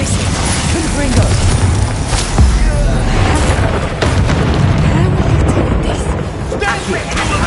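Repeated Confringo fire blasts erupt during Hogwarts Legacy combat, loud booms and bursts layered over dense battle noise, with a voice talking throughout.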